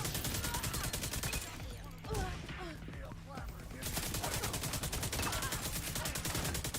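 Automated turrets in The Division 2 keep up dense, rapid gunfire, a steady rattling stream of shots that dips briefly in the middle before resuming at full strength.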